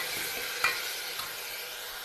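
Masala frying in oil in a pan makes a steady, close sizzle with a faint scrape of stirring partway through, and nobody speaks.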